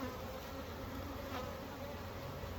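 Steady, dense buzzing of honeybees at a country apiary, a continuous droning hum from many insects close by that holds level throughout, with no voices.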